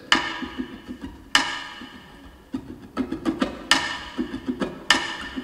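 Percussive taps on a ukulele made with a finger, sharp bright smacks marking the beat with softer muffled ticks between them, in a lively repeating pattern heard up close with no voice.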